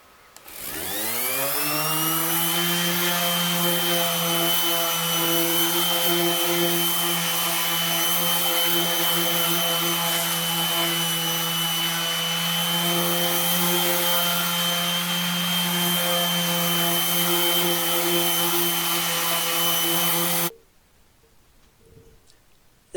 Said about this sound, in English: Then I have my Dremel, which I clean the cracks out with.